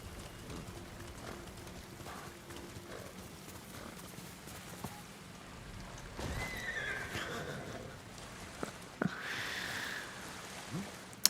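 A horse in the video game Ghost of Tsushima whinnies in short bursts over soft clip-clop hoofbeats and a steady patter of rain, with no talk over it.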